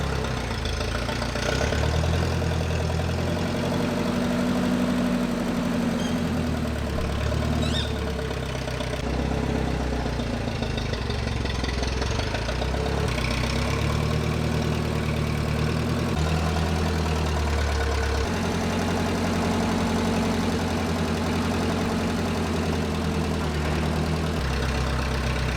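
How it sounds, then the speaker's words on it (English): A forklift engine idling steadily, a continuous low rumbling drone that holds throughout with slight shifts in pitch and load, loud and close with no talk over it. "when he saw the forklift, I offered him a chance to teach him how to drive it."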